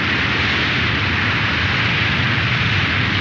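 A Tu-160 strategic bomber takes off with a loud, unbroken, broadband jet roar that stays constant with no pauses.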